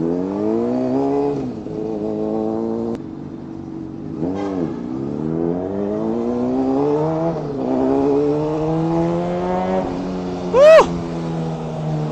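A car engine revs and shifts through rising, falling gear pulls while driving onto an expressway, steady and close, with a brief higher whine near the end.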